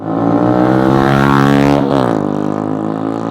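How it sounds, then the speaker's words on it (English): A loud, raw motorcycle exhaust with no baffle revs up and holds, then the pitch drops as the throttle eases, a rough rapid popping underneath. "just loud exhaust like that. I'm pretty sure there's no baffle in that at all."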